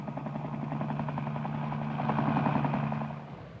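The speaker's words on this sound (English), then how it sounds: "Helicopter." A helicopter drones steadily with a rotor thump and engine whine, close and fairly loud, swelling slightly toward the end before easing off.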